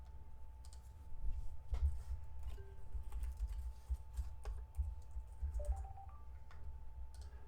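Soft tapping of a text message being typed, quick irregular clicks close by over a low background hum, no talk.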